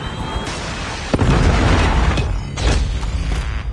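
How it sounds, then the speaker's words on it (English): A predator missile strike explodes in Call of Duty Mobile, a loud close boom with rumbling blasts and a second burst of impact noise following, with no voices. "Friendly predator missile inbound."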